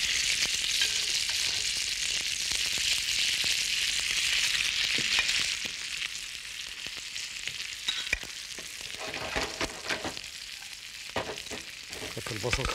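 Onions frying in a little oil, a steady close hiss and sizzle that softens partway through, with faint stirring clicks and no talking.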